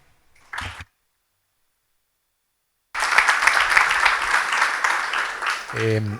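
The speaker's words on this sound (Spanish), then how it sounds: "Yo los invito a guardar los aplausos para la última pregunta" A live audience claps loudly and continuously for about three seconds at the close of a results presentation, following a short burst of sound and a silent gap, with a voice starting up as the applause fades.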